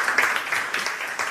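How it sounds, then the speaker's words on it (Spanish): A conference audience gives a short burst of applause for a speaker on rural life, a close, moderately loud rattle of many hands with no voices. "Os pido un aplauso para él"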